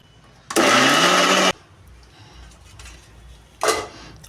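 A mixer grinder grinding okra chutney with chillies and tomato whirs loudly in a one-second burst, goes quiet, then gives a second short pulse.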